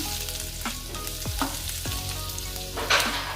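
Garlic sizzles in hot oil in a wok, a steady close frying hiss with a few sharp crackles and spits, no voices.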